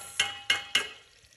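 Ginger garlic paste with green chillies is stirred into sizzling masala for karhi, three quick, evenly spaced stirring strokes bursting over a faint background fry.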